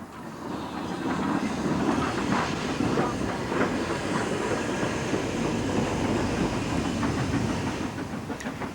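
The sole surviving LNER N2 class steam tank engine running with its train on the Great Central, a loud steady rumble of wheels and rolling stock with a hiss and faint rhythmic clatter throughout.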